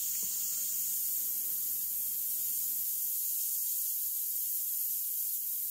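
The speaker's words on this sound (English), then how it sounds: "That's just how I airbrush." An airbrush sprays paint onto a model jet, giving a steady, close, even hiss that runs unbroken for the whole stretch with no voices.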